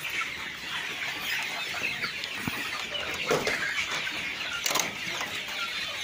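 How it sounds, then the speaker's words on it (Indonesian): Chickens in a coop cluck and murmur steadily, with a few louder squawks and a brief flutter of wings, near and moderate in level, and no talking over them. "Cukup sehat-sehat ayamnya."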